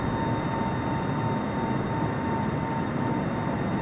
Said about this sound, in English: and we have liftoff, landing gears up